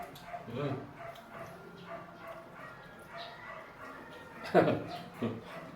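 A pet dog barks and yips in a couple of short bursts near the end, mixed with a low whimpering sound and someone talking nearby.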